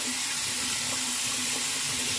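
Tap water runs steadily into a sink for a rinse after a shave, a constant close hiss and splash with no talking.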